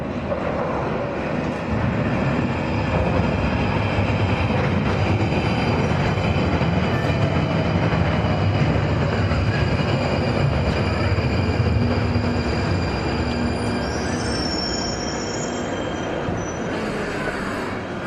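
A London Underground train runs along the tracks on the southbound line near Leicester Square, a loud continuous rumble and rattle of wheels with steady clickety-clack throughout, close and with no talk.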